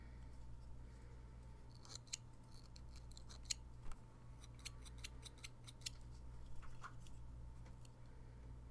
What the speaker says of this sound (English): Biggest fan of these scissors, snip shear thingies,